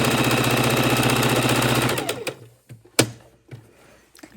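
A sewing machine stitching a quilt with a quarter-inch seam runs loud and steady for about two seconds, then stops, leaving a few sharp clicks and knocks.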